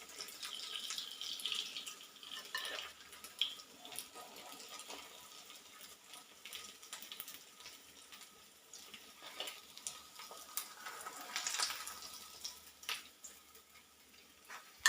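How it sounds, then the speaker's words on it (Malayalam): A tea-time snack frying in hot oil gives a quiet, steady crackle and sizzle with a few brighter bursts, heard alone and fairly faint throughout. "ഇനി ബാക്കിയുള്ളതും കൂടെ വറുത്തെടുക്കാം."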